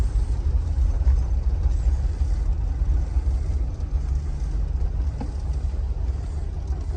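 A 1956 Mercury Montclair backing up, its engine giving a steady low rumble that stays close and even throughout, with no voices.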